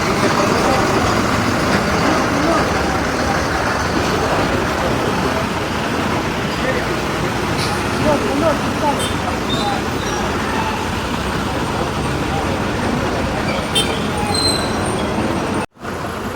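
Dense town traffic flows past in Iritty, Kerala, a steady loud roar of buses and other vehicles with engines droning and occasional higher tones, as a voice talks over it.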